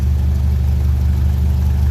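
A 1957 Ferguson 35 tractor with a TVO engine runs steadily close by, its loud, even low-pitched throb and rapid firing pulses filling the clip with no pauses or talk.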